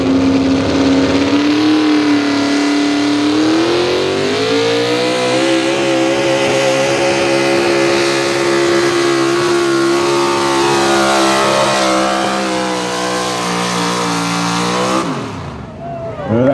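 A 1985 Chevrolet pro stock 4x4 truck at a truck pull event, its engine held at a loud, sustained high-rev roar that climbs steadily in pitch for about fifteen seconds before cutting off abruptly, heard up close.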